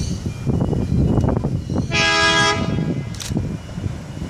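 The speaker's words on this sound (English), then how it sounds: "We've got the Armadale Moree Xplorer about to pass here at Adamstown." Armidale Moree Xplorer diesel train rumbling past at Adamstown, with a loud, sustained horn blast in the middle over heavy rolling noise and a short higher toot afterward.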